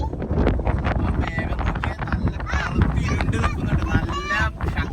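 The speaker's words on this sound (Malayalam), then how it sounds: "നല്ല കാറ്റ്." Strong wind buffets the microphone on a beach on a family day out, a steady roar throughout, with voices and other sounds partly masked beneath it.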